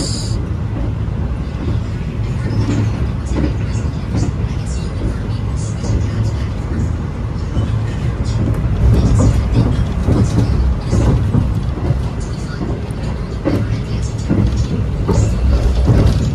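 Interior of the Taksaka passenger train running between Jakarta and Yogyakarta as it passes the Argo Wilis train, a steady loud rumble of wheels and carriage noise that holds through the whole stretch, with no clear separate passing burst.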